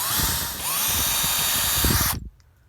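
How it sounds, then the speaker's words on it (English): A power drill whines loudly for about two seconds, then cuts off abruptly into near silence. "once my points are marked, I just drill"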